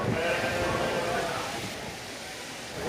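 Sheep bleat in the stalls at an agricultural show, with several calls in the first second and more scattered through a steady crowd murmur. People talk nearby, and there is a faint bump at the end.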